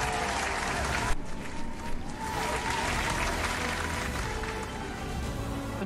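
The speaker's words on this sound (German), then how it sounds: "Dann spiele ich für dich dann mal eben hier den Applaus kurz ein." A recorded applause sound effect: a crowd claps steadily and loudly, a dense wash of applause that briefly dips and then carries on without a break.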